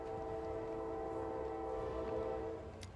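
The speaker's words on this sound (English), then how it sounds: "Hello, train." A train passes nearby, its horn sounding a sustained multi-tone chord over the steady rumble of the wheels, then fading slightly near the end.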